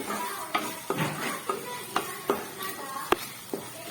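Frying sizzle in a pan while tomato egg fry is made, with soft continuous sizzling broken by regular clinks and scrapes of a stirring utensil, close and fairly quiet with no talking.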